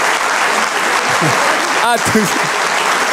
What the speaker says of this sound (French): directement on a des applaudissements quand c'est grossier